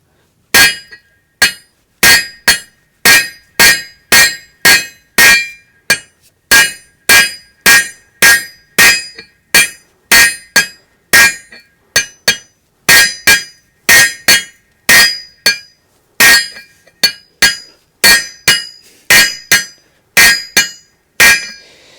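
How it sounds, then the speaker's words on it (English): A farrier's hammer edge strikes horseshoe nails to clinch them while shoeing a horse: a long run of sharp, ringing metallic taps in quick, steady bursts, loud and close with no talking. "I'm hitting it with the edge of my hammer like this."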